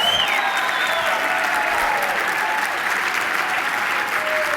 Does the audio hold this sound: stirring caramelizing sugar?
no